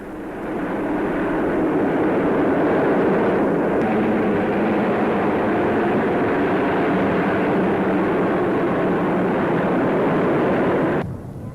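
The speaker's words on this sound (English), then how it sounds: "They were followed by the famous Canberra bombers." Canberra bombers fly overhead at a 1953 Royal Air Force display, building into a loud, sustained jet roar that swells, holds steady for several seconds, then cuts off abruptly near the end.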